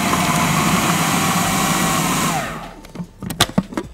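Chicken being minced in a food processor, a loud steady whirring motor roar that cuts out after about two and a half seconds, followed by a few short clunks and knocks.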